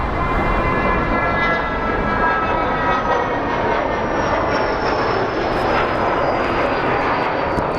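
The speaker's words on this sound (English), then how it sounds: "this is one of the rare Southwest Airlines flights that's actually flying these days" A Southwest Airlines jet heading to Midway from Phoenix Sky Harbor, a loud, sustained engine roar with a high turbine whine riding on top, steady and close throughout.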